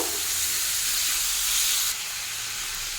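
Crushed ginger-garlic paste fries with chicken in a pan, making a loud, steady close hiss of steam and sizzle that drops abruptly in level partway through, with no talk.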